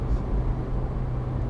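A turbocharged Mk1 Mazda MX-5 engine running in low boost gives a steady, loud, low rumble from inside the car, with no gaps over a short stretch.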